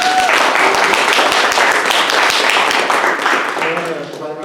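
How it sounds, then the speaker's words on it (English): Applause from a city council meeting audience during a Juneteenth recognition: a full burst of crowd clapping that tapers off toward the end as a voice begins speaking. "Give yourself a round of applause."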